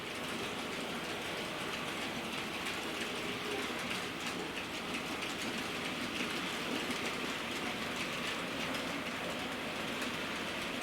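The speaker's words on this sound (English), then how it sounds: "we've got it now pulling some benzine wagons" A model West Country class locomotive, Trevone, pulls Bachmann benzine wagons and a brake van along a model railway, giving a steady continuous rolling rumble and rattle throughout, fairly quiet with no talking.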